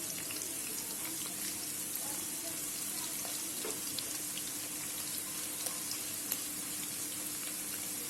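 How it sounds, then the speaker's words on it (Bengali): Chopped onions fry in hot oil for beef korma, giving an even, continuous hiss that holds steady throughout, close and moderately loud with faint crackles and no voices. "পেঁয়াজটাকে আমি হালকা লাল করে নিব, একটু ভেজে নিব"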